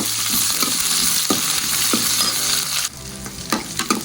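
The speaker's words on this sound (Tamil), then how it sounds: "சின்ன வெங்காயம் நறுக்கி வச்சுருக்கோம்ல அது போடணும். போட்டு அதை வதக்கணும்." Small onions (shallots) sizzling and crackling in hot oil, with occasional scraping stirs of a spatula in the pan close up.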